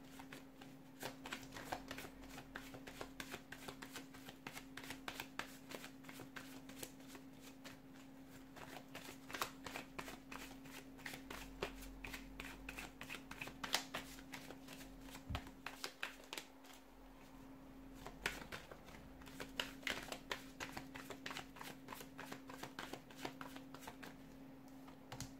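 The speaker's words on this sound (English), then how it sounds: "let's go ahead, give the cards a shuffle" Tarot cards are shuffled continuously, a dense run of quick riffling flicks and soft slaps close by, with brief pauses and no talking.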